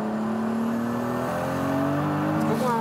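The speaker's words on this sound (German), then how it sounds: "was passiert, wenn man das Gaspedal ganz durchtritt." A tuned 1000 hp Toyota Supra engine at full throttle gives a loud, droning roar that climbs in pitch as it revs, ending with a sharp rise near the end.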